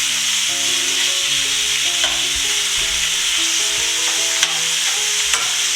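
Beef searing in oil in a pot for a beef and broccoli stir fry makes a constant close sizzle, with occasional scrapes and small pops standing out and no talking.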